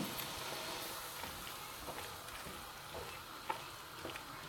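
Blended green chilies and onions cook in a pan, a soft continuous sizzle with light stirring scrapes and an occasional small tap, fairly quiet and steady throughout with no talking.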